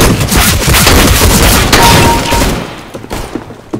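Sniper rifle headshot in a video game: a loud, booming gunshot with a rolling crash that fades over a couple of seconds, followed by a few faint smaller thuds.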